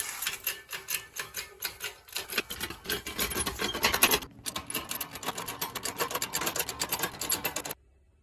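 A broach cutting a keyway slot in a metal part for a DIY four-axis CNC machine build, a rapid rhythmic ticking and rasping chatter that pauses briefly midway, resumes, then stops abruptly.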